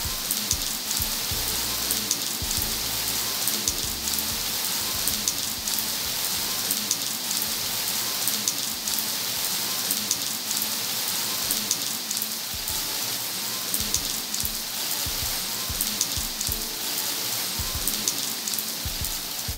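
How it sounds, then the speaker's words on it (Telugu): Heavy afternoon rain pours down in Chirala, a dense, unbroken roar of drops drumming on surfaces, steady and loud for the whole stretch with scattered closer splatters and no talking. "ఆ వర్షం పడినప్పుడు సౌండ్ వస్తుంది కదా"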